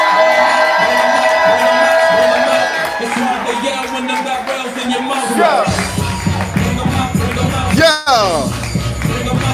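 A crowd at a live poetry show in Denver cheers, whoops and shouts for a poet, loud and sustained, with a voice calling out over the noise as the energy builds.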